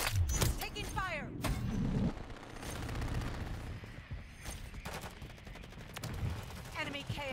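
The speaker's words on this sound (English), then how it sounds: "Taking fire." STG 44 assault rifle fire in the video game Modern Warfare 3 comes as repeated bursts of sharp, rapid shots, mixed with other gunfire and game effects throughout, with a voice speaking over part of it.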